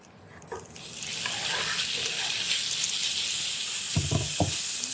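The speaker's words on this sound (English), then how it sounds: "nice sizzle there" Minced chicken hits an oiled pan with a loud, close sizzle that starts up within the first second and hisses steadily, broken by a few stirring knocks toward the end.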